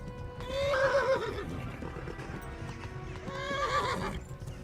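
Two drawn-out horse whinnies over a steady beat of galloping hooves in the video game Kingdom Come: Deliverance, fairly close, with no talking.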